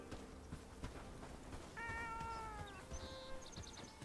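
A cat meows in the video game Bellwright, with a few drawn-out harmonic calls up close, followed by short chirpy mews over a low background murmur.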